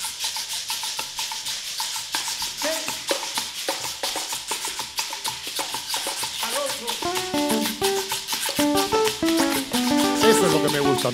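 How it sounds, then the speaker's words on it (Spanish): Afro-Peruvian festejo song, "Don Antonio Mina", played live with steady percussive hits and melodic voices or instruments building in over a lively rhythm, fairly loud throughout. "Esto que viene es un festejo."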